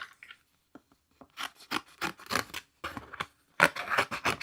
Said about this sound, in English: I'm going to grab a regular sheet of cardstock and we'll cut it out.